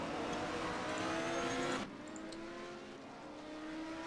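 Race cars roaring past at Sebring in a racing game, a loud engine drone that drops sharply as one car passes, then a steadier hum of traffic.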